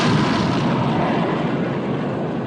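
Heavy naval gunfire from a battleship in a 1960 war film about the Bismarck, a loud continuous rumbling barrage of booming blasts filling the whole moment with no clear gaps.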